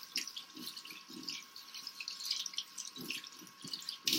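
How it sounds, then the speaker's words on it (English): Running tap water pours and splashes as soapy hands are rinsed under a faucet, a steady, fairly quiet trickling with irregular drips and splatters. "now I'm going to rinse my hands well after lathering for 20 seconds"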